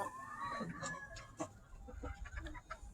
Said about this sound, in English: but I think they're awful nice chickens